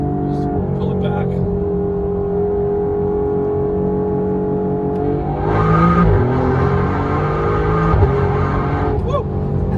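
A 2021 Alfa Romeo Giulia QV with an X-pipe exhaust modification pulls hard under acceleration, its engine drone climbing steadily in pitch. The sound is loud and continuous, heard from close by.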